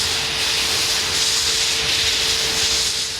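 Steam hisses loudly and steadily from a historic steam locomotive being shut down, a continuous close roar with a faint steady tone underneath and no talking.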